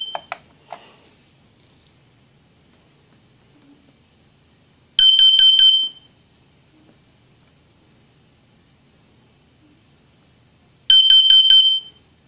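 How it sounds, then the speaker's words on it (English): Nighthawk carbon monoxide alarm being tested: two separate bursts of rapid, piercing beeps, each about a second long, with quiet between them and a few faint handling clicks at the start. "here's the Nighthawk carbon monoxide alarm"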